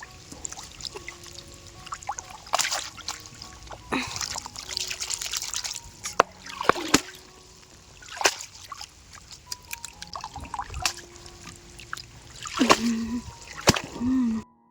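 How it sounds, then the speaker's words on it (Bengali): Moringa flowers being washed by hand in a basket, with intermittent splashes, trickles and pours of water in short bursts alongside clicks and handling knocks, close and fairly quiet. "আমি চুবড়িতে এখানে তুলে নিলাম ভালো করে ধুয়ে নেব বলে"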